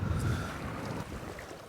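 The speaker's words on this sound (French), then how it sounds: "il y a vraiment beaucoup de vent" A strong wind blows across a lake during feeder fishing, with steady, loud, rumbling gusts buffeting the microphone throughout, and no voices over it.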